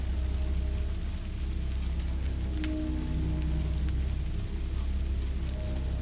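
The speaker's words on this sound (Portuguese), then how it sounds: "Uma noite de tempestade envolvia a cidade em um manto de chuva e trovões" Heavy rain pours steadily onto surfaces during a night storm, a dense continuous wash of drops close by, with a faint low rumble that may be distant thunder.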